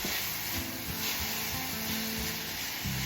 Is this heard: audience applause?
no